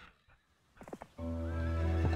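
A horse in the strategy game Heroes of Might and Magic 3 gives a clear whinny with a few hoof clops, followed by a loud sustained musical tone.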